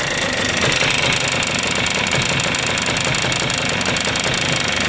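Knocking from the engine of a Suzuki Address 110 scooter at low revs, a steady, loud mechanical clatter with a rapid rhythmic tapping over the drone of the engine, heard up close with no talking.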